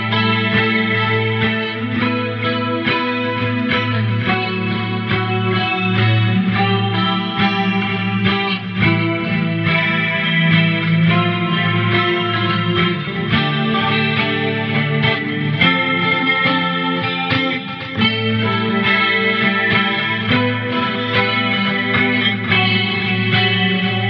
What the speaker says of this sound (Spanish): vas a escuchar ejemplos de guitarra eléctrica